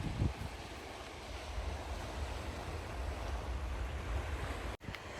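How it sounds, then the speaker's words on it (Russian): Sea waves wash in a steady, soft roar on the coast near Kavala, Greece, mixed with gusty wind buffeting the microphone, with a brief dropout near the end. "Что там? Море."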